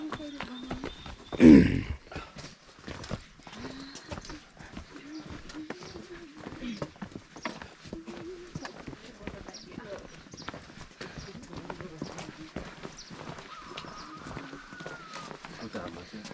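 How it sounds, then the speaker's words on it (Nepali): Pack mules' hooves clip-clop in a steady, faint rhythm on a rocky mountain trail during a base camp hike, under near-constant conversation with birds cooing in the background. "हो नि, खचरले ओसार्छ नि यहाँ सब खच्चडले"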